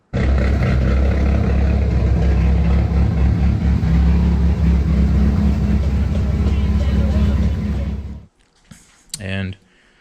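A car engine fitted with a hot cam runs at a loud, steady, rumbling idle for about eight seconds, then cuts off abruptly, followed by a brief burst of voice.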